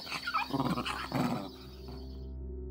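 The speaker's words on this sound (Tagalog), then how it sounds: "Galit na galit ang aso, Oliver." A big black dog, furious and menacing, growls and snarls in two close, harsh bursts, then falls quiet over a low background hum.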